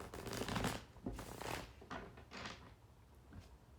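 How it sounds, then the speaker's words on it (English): Papery riffling bursts come in several quick waves as tarot cards are shuffled close by, with soft thumps between them and no talking. "One more shuffle for Libra."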